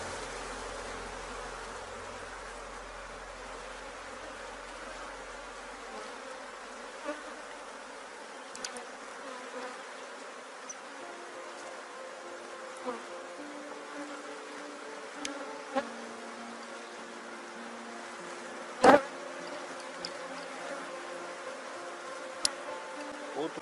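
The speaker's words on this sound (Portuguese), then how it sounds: "O enxame que tá muito bom, tá bonito." A honeybee swarm buzzing around an opened beehive during a hive inspection, a steady close drone with occasional light knocks and clicks of frames being handled.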